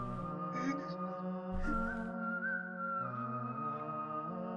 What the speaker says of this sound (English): We got some penny whistling going on.